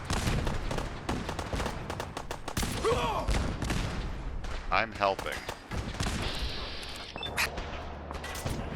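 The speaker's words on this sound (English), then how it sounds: "There's a lot of explosions going off over here." Explosions and gunfire in the video game Fallout 4 near a railroad checkpoint, with repeated loud bursts, thuds and rattling shots in dense succession, while a person speaks briefly over the din.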